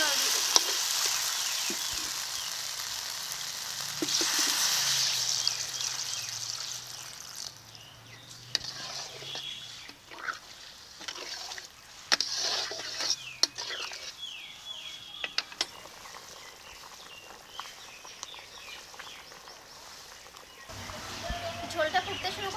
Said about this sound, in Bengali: এখন অল্প করে জল দিয়ে দেবো।